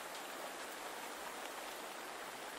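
Gentle rain falls steadily in a bamboo forest, a soft, even hiss of drops with no breaks and no voices, quiet and close all around.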